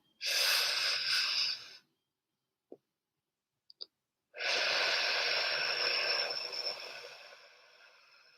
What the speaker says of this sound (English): Take another deep breath. Exhale.